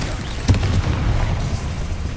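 A Bombarda explosion spell cast in Hogwarts Legacy, a single deep boom with a sharp onset followed by a rumbling, low decay beneath ongoing game noise.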